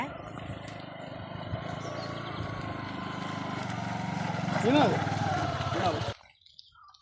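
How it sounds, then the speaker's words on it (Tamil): A postman's motorbike engine drones steadily close by on a village road near a tea estate, swelling slightly as it passes before cutting off abruptly. "எங்கள் ஊரில் போஸ்ட்மேன் எப்படி வராரு பாருங்கள் பைக்கில்"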